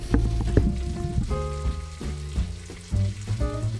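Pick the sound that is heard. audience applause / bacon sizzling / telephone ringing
bacon sizzling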